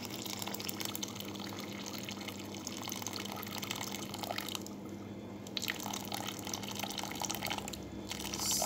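Hot water is poured into a container for tiramisu syrup, a faint continuous trickling splash at low level, steady throughout with a slight rise near the end.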